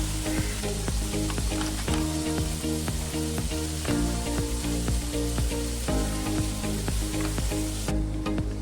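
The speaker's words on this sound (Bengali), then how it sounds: "এদিকে আমার পেঁয়াজ আর টমেটোটাও ফ্রাই হয়ে গেছে" Onion and tomato sizzling steadily in a pan while cooking paneer tikka masala, a continuous moderate crackle with a persistent low hum underneath and no voices.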